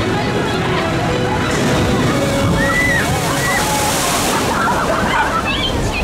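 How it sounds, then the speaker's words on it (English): Water sloshes and splashes continuously on the Speed Water Coaster ride at Energylandia, a dense rushing wash with crowd noise and voices mixed in. "Speed water coaster, it's a soaker on the front."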